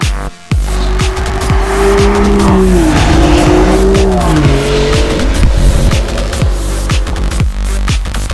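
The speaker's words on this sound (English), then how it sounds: "Driving the DB11." An Aston Martin DB11 on the road with its tires squealing in a long, wavering screech over loud engine and road noise, close and continuous.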